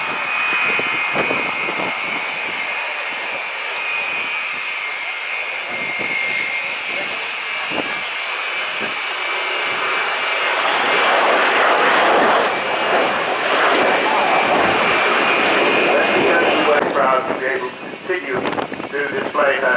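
Avro Vulcan jet bomber flying past at an air show, a loud, sustained broadband engine roar with a high whine that swells and stays strong throughout, with wind buffeting and a voice talking over it.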